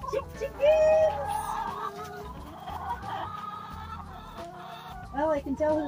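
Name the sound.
Bresse chickens clucking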